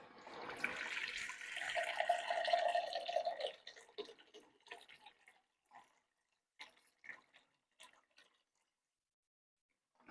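Six cups of water poured into a two-quart glass dish for microwave spaghetti with meat sauce: a steady gushing pour for about three seconds, then scattered drips and splashes trailing off into quiet.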